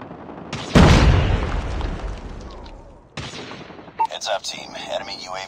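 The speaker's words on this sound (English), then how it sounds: "Predator missile on standby. Friendly Predator missile inbound." Predator missile killstreak in Call of Duty Mobile, a free-for-all match: a sudden loud blast that rumbles and decays over about two seconds, followed by quieter game noises and announcer-style voice lines.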